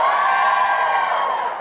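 A large school convocation audience cheers and shouts for a football team in a loud, sustained roar of mixed voices that tapers slightly at the end.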